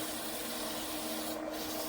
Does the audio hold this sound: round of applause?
no